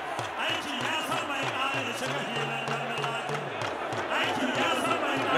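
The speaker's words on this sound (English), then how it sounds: "the people in the crowd are loving it" A crowd at a Dambe fight in Abuja cheers and roars after a knockout, a steady wash of voices and clapping with rhythmic drumming underneath, under commentary.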